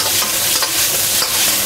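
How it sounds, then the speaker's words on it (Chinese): Shrimp stir-fried in a hot wok with scallion, ginger and garlic, a steady loud sizzle with scraping stirs, no talking. "翻炒了三四下"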